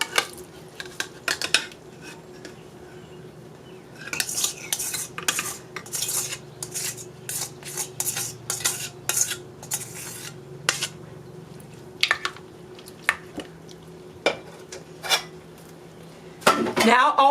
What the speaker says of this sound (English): So now we're going to add a can of corn that's been drained.